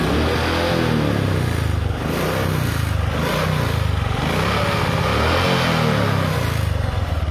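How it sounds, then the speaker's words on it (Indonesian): A motorcycle engine revs steadily and smoothly just after a workshop service, its continuous mid-range drone loud and close throughout with slight swells in pitch and no talking. "Ini motor."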